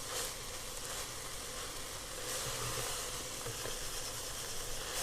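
Keema mixed with coriander and green chillies fries in a pan, making a faint, even sizzle and hiss with soft stirring underneath and no talking.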